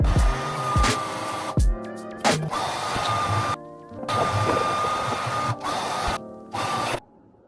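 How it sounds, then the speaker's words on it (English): A hair dryer blows into a wine bottle, a steady loud whirring drone with a resonant whine that is switched off and on several times in short irregular stretches. "Not every day I blow dry a wine bottle, but here we go."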